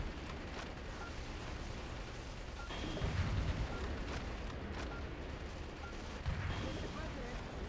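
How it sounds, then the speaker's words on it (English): Grenade launcher fire in the video game Metal Wolf Chaos XD, heavy booming blasts around three and six seconds over a dense, continuous layer of game noise and rumble. "Grenade launcher's not very good."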